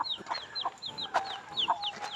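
A hen with one chick clucks in short repeated bursts, close by, with small bird chirps mixed in between.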